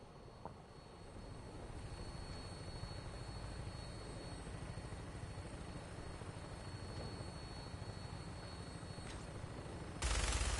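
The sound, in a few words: aircraft in flight in Fallout 4 video game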